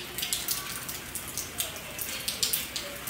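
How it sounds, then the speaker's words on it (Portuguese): Steady rain falls and patters on a surface nearby, with dense irregular drips and splashes throughout at a moderate level, no voices. "eu adoro esse sonzinho de chuva, ó."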